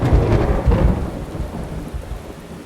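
Heavy rain pours steadily around a woodland cabin as loud, rumbling thunder rolls through, dense and close with no voices.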